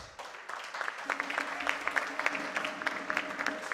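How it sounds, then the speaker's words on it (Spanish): A crowd at a regional oratory contest in Chiriquí province claps in a hall. The applause is fairly faint, with scattered hand claps that build and hold steady for a few seconds. "Fuerte el aplauso."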